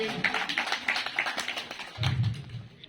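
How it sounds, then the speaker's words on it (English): Light, scattered clapping from a small audience at a school environment week celebration, a few distinct claps in loose rhythm with a brief low murmur near the end. "A round of applause again."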